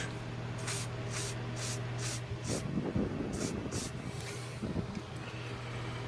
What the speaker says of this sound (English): squirt some lubricant into the switch